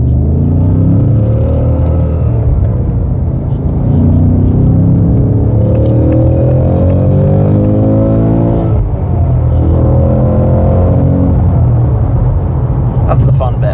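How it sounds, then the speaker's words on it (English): Ford Mustang Dark Horse S650 V8 downshifting in sport mode on a road, a loud, close rumble with repeated rising revs and blips while people talk over it throughout. "Come on, so give us some downshifts."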